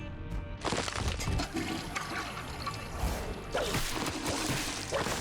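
Toilet flush sound effect from the Flush! item in The Binding of Isaac: Repentance. A loud, close whooshing rush of water that surges, dips and swells again for several seconds. Game sounds play faintly underneath.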